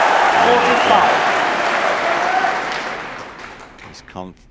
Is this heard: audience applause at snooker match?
yes